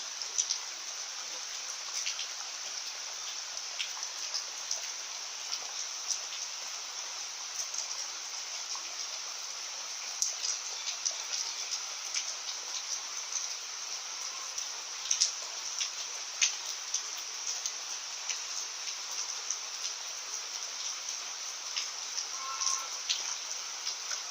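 Steady rain pours down during Cyclone Yaas in Odisha, an even, dense hiss of falling water with scattered drops, continuous and fairly loud with no voices.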